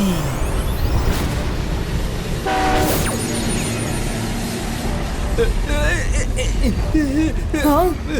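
A cartoon train rushes along on a magical flight through the desert, its rumbling run and a loud horn blast filling the scene, with animated voices and effects layered over it.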